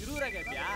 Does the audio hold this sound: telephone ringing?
yes